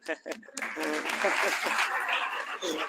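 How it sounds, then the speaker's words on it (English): Audience applause at a startup roadshow event in Málaga, a dense round of clapping mixed with voices and some laughter, rising after a short spoken lead-in. "I want a huge clap for him"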